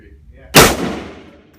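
A single loud gunshot at a Miami shooting range, a sharp close crack with a reverberant tail that fades over about a second after a quiet start.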